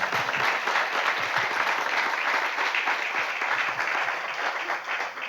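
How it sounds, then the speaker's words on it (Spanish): Sustained applause from a church congregation at a Spanish-language worship service with a psalmist and preacher, dense steady clapping filling the room at an even level throughout, with no voices heard over it. "Denle un aplauso por eso a nuestro Dios."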